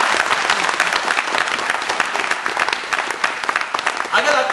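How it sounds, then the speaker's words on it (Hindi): An audience applauds in Rabindra Mandap, a hall in Bhubaneswar, during a meditation gathering: a dense, steady patter of many hands clapping close by that carries on for several seconds. "आपके लिए तालियां बजाएंगे हम सब।"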